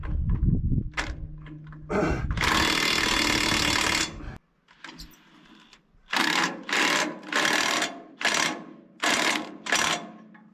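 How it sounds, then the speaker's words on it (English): A half-inch drive impact wrench tightens a fastener during a front axle swap, with a long continuous burst followed by five short rattling bursts in a steady rhythm, loud and close. "it's a half-inch drive impact"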